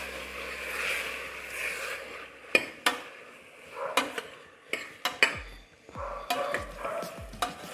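Tomato soup ingredients, including grated beetroot, stirred in a pressure cooker pot, giving repeated sharp scraping and clinking of a spoon against metal over a soft sizzle, close and fairly quiet.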